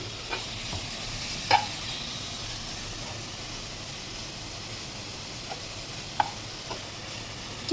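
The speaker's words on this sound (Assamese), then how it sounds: "ঘিউত গাজৰটো অকণমান ফ্ৰাই কৰিব দিছোঁ" Grated carrot frying in ghee, giving a steady, soft sizzle and hiss throughout, with a few sharp clicks and taps of a utensil against the pan and no talking.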